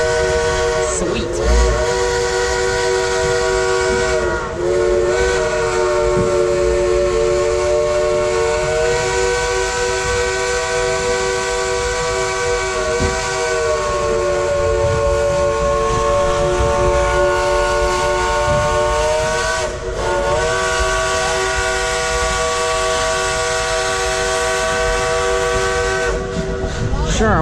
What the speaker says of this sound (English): hear that engineer play a song on that Dollywood locomotive whistle?